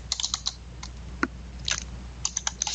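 Typing on a computer keyboard while working in a Microsoft Access form: scattered clusters of crisp, close keystroke clicks with short gaps between them, no voices.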